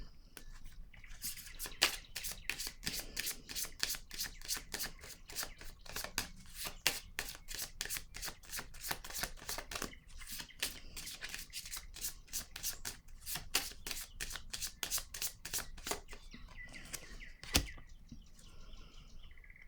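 Tarot cards shuffled and handled near the microphone, a long run of quick crisp riffling snaps with a few soft rubs, and one sharper card slap toward the end as a card is laid down.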